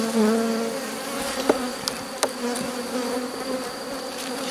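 Honeybees crowding the frames of an opened, queenless hive with a drone-laying colony, giving a dense continuous buzzing hum with a few sharp clicks of handling, close and steady.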